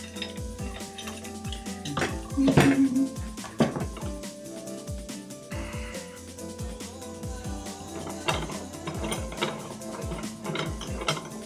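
A clamp is ratcheted tight during glue-up of a homemade bowed guitar, giving a run of close, sharp clicks and mechanical ticks in uneven bursts, with some louder knocks and handling noise.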